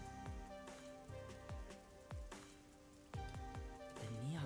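Steady rain falls over a neon-lit city district in the video game Master Detective Archives: Rain Code, a soft, faint patter of drops tapping surfaces, with no voices.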